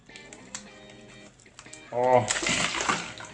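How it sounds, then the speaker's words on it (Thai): Water pours and splashes out of a container holding a frozen SKMEI 1142 wristwatch. The short, close burst of sloshing follows someone speaking. "จะคอยเทน้ำออกหน่อยนึงก่อนมันยังมีน้ำอยู่หน่อยนึง"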